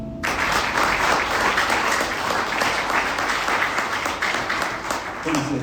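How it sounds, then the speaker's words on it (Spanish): A large church congregation applauds loudly and continuously, a dense wash of clapping that holds steady before cutting off near the end. "Denle un fuerte aplauso al Señor."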